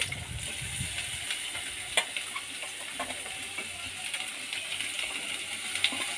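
Onions sizzle and crackle in hot oil in a pan already holding cloves, a steady close frying hiss with small pops and occasional stirring clicks and scrapes, no talking.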